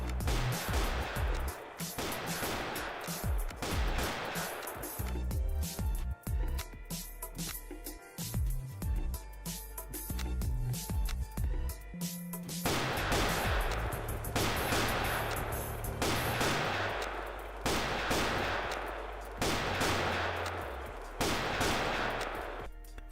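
Neo Rifle gunfire in the online game Graal: repeated sharp shots come in pairs, several close, loud bursts spaced across the stretch with a quieter gap in the middle.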